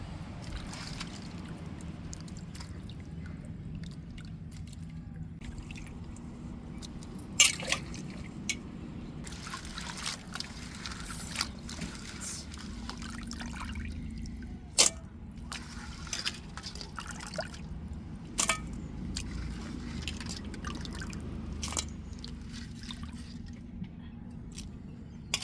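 Broken crab pieces being washed in water: soft trickling, dribbling and sloshing with occasional drips and squishy handling sounds, close and fairly quiet, continuing throughout with no talk.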